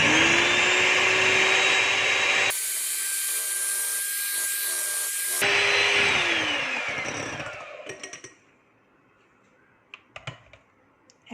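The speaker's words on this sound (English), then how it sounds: "As soon as the milk and oil is mixed, we'll turn off the egg beater." An electric egg beater whirs steadily as it mixes oil and milk into grape and basil cake batter, its motor pitch shifting once with the speed, then cutting off and leaving a few light clicks and knocks.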